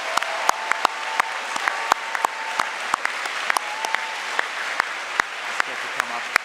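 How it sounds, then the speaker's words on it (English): Steady applause from an audience at a moot court awards ceremony, dense and even throughout with a few sharper claps standing out and a faint voice briefly audible beneath it. "Let's give a big applause"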